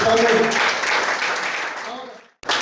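Audience applause in a Spanish-language church conference hall, a dense wash of clapping filling the room for a couple of seconds before cutting off abruptly, with a brief burst returning at the end.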